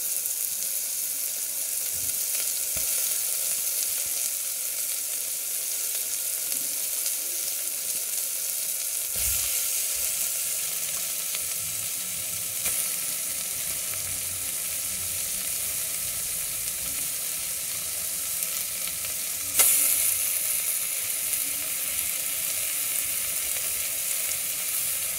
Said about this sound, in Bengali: চিকেন পেঁয়াজ এগুলোকে একসাথে ভাজবো